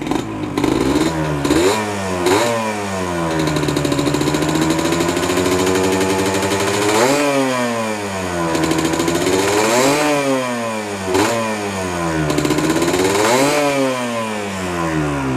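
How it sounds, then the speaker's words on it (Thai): A used motorcycle in original condition, with a quiet engine and a light throttle, idles loudly up close and is revved repeatedly, its engine pitch rising and falling in several smooth swells. "โอ้ เครื่องเงียบมาก ชอบชอบคันนี้ชอบ คันเร่งยังยังเบามืออยู่เลย"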